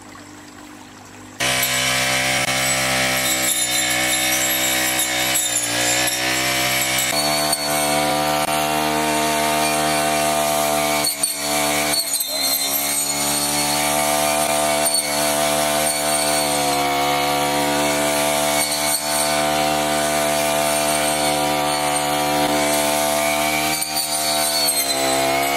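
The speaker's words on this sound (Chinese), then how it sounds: "先要把这个水稻田旁边的这些杂草啊，用这个割草机全部除掉" A gas-powered grass cutter clears weeds beside a ploughed rice paddy, its engine droning loud and steady with a harmonic whine throughout, starting after a short quiet opening and briefly dipping in pitch a few times.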